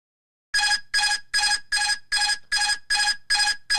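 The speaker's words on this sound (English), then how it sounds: "That's the autopilot disconnecting." A bright electronic chime repeats in quick, even pulses, eight short bursts in a row with no voices: an Airbus cockpit autopilot disconnect warning.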